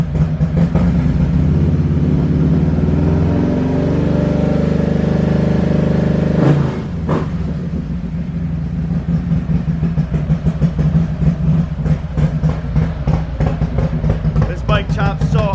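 A Harley-Davidson motorcycle with a 128 engine and performance cam idles loudly and up close. It rises into sustained revving, then drops back into a fast, choppy, lumpy idle. A voice talks over part of it.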